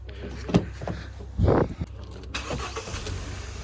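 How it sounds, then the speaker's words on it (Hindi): A 2022 Hyundai i10 Nios with a 1.2-litre petrol engine, hot from running, starts with a short crank and then settles into a steady idle, heard up close. "मैं आपको जरा एक बार इंजन साउंड सुनाना चाहूँगा। गाड़ी का इंजन साउंड कैसा है।"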